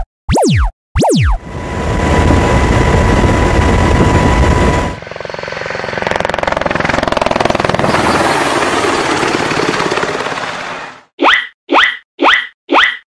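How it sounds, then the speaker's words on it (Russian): A military helicopter in flight gives a loud, continuous rotor and engine roar that shifts in tone partway through, framed by short bouncy cartoon sound effects at the start and a run of quick boings at the end. "Верно, это военный вертолет."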